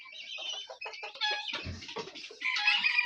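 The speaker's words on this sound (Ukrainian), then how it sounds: "Так, виходять цесарки." Guinea fowl coming out of a coop, giving a close burst of rapid clucking, chattering calls with a few louder squawks, busy and overlapping with no talking.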